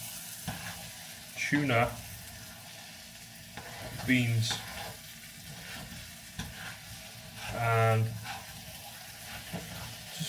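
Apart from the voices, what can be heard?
rice, lentils, stock, tuna and beans frying in oil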